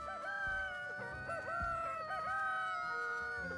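Roosters in the video game Valheim crow repeatedly, their long, wavering tonal calls overlapping one another at a steady, fairly strong level throughout.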